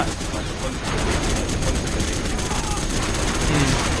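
Dense, continuous gunfire crackles loudly in C&C Generals Zero Hour, with overlapping shots from GLA and USA forces forming a steady battle din throughout.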